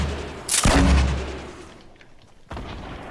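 A grenade detonates in a Fortnite match with a loud, sharp boom and a long, decaying rumble, followed by a second blast-like thump near the end.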